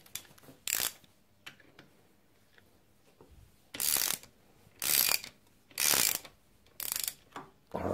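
Ratcheting tool loosening the alternator mounting on a motorcycle during reassembly of the dynamo and primary chain covers, heard as several close bursts of rapid clicking separated by short pauses, with faint metallic handling in between.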